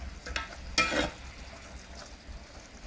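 Boiled, pounded chilies added to a simmering coconut milk curry for a Thai rice-noodle sauce give a brief splashy burst followed by a soft, steady bubbling hiss, heard up close without talk.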